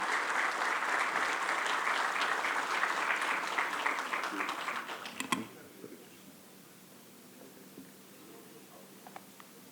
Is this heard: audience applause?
yes